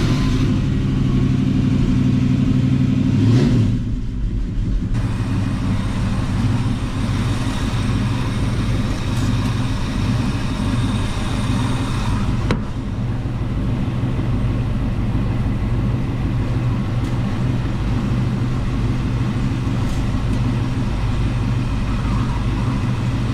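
A 1970 Mustang/Cougar V8 idling loud and close after an overdrive transmission install, a dense steady rumble with a brief rev early on, then running evenly throughout.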